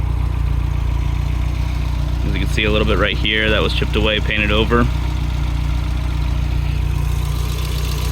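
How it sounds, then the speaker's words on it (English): A 1990 Volkswagen Mk2 Golf GL idles steadily with a low, constant engine hum throughout, while someone talks over it in the middle. "Engine running"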